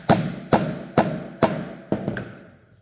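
A wooden dowel is tapped into an MDF piece with five evenly spaced, gentle knocks, each a short woody thud that gets a little softer toward the end, close by and with no talking.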